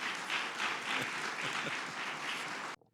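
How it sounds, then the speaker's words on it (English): Sustained applause from a city council audience welcoming Willie J. Dell to the podium, a dense, even wash of clapping that cuts off abruptly near the end. "Let's give her a round of applause as she comes."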